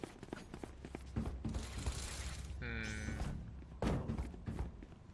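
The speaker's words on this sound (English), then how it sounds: "Placing swarm grenade." A Valorant swarm grenade being placed during a ranked match. A short mechanical clunk and whirring chime sit among thuds and other game effects at moderate volume, with no talk.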